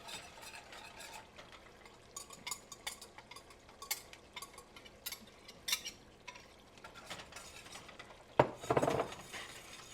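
Ground beef taco meat in tomato sauce and garlic powder is stirred in a pan, giving soft scraping and faint clinks of a utensil against the pan, with a louder clatter near the end.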